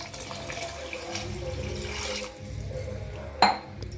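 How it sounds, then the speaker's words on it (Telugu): Three glasses of water poured into a pot of rice for chicken pulao: a steady, close rushing pour that dips briefly, resumes, and ends with a sharp clunk. "వాటర్ కూడా పోసేసుకుందాం 3 గ్లాసులు"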